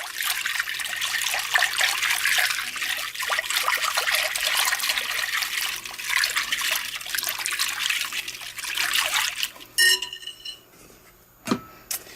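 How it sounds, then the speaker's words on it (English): Milk with melted butter for bread pudding is stirred steadily in a bowl, giving about ten seconds of continuous close liquid swishing and trickling, followed by a few sharp clinks of a spoon against the dish near the end. "you're going to give that a decent stir"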